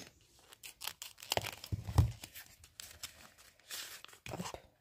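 A small plastic package holding a crochet hook being torn open by hand, with crinkling and ripping bursts in irregular bursts, close and fairly quiet.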